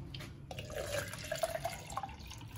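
Water, 500 ml, pours into a pot in a home kitchen while making a strawberry gelatin dessert, a soft splashing trickle with a few brighter drip-like plinks, fairly quiet and without speech.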